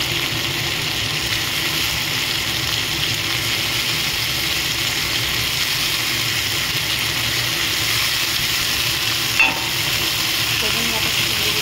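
Peas tossed in with potatoes frying in a pan give a loud, constant sizzle that holds steady throughout, close by, with one small clink of a utensil near the end.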